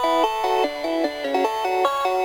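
A synth tone has its volume chopped by an LFO tool, giving short rhythmic pulses of a bright harmonic chord that step up and down in pitch, steady and close with no voices.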